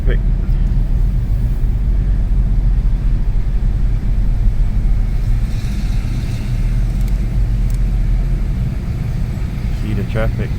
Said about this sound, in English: See the traffic.